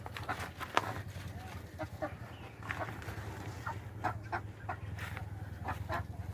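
Black naked-neck chickens cluck in short, scattered bursts over a steady low hum, with several birds calling near and at middle distance.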